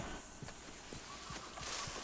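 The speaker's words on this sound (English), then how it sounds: "Wait, is there a horse?" Faint hoof clops of a horse walking in Red Dead Redemption 2, spaced unevenly over a constant background hiss, with a soft neigh-like tone near the end.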